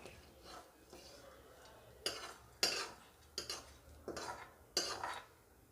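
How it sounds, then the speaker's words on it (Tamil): A spoon mixing sautéed onion and carrot into idli batter in a bowl, with a series of irregular scraping clinks against the vessel, quiet and close, with gaps between strokes. "வதக்குனதையும் இதில் மிக்ஸ் பண்ணிடலாம்."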